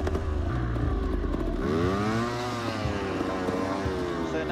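A rally car engine revs with rising and falling pitch, loud and close, building steadily after a brief lower idle.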